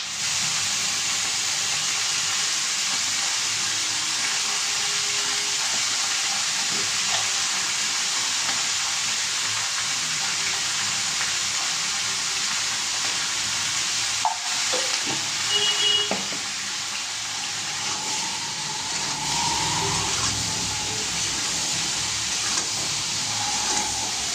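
Vegetables fry with black cumin and turmeric in a kadai, giving a constant close sizzle with occasional light clinks and stirring scrapes, with no voices.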